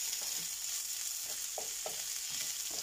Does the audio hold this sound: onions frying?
yes